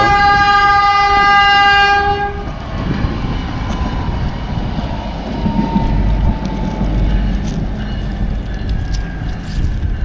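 A River Line light-rail train near Trenton, New Jersey sounds a loud, clear chord horn for about two seconds, then rumbles past with steady rolling and rail noise for several more seconds, with no talking.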